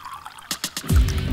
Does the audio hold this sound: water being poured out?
yes